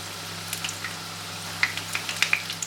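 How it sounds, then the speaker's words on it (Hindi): Vegetable cutlets fry in hot oil, a steady low sizzle with scattered sharp pops and crackles spaced through the short stretch, moderately close and with no one speaking. "और गर्म तेल में आपने इसको फ्राई करना है जब तक कि इस पर अच्छा सा गोल्डन कलर आ जाए"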